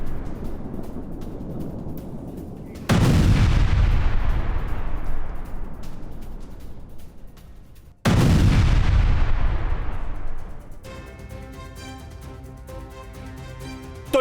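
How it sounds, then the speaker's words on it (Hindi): An Israeli air strike in the Bekaa region of Lebanon: two huge, deep explosions several seconds apart, each a sudden boom that rolls and fades slowly, with music starting near the end. "लेबनान के बेका इलाके में आईडीएफ का हवाई हमला।"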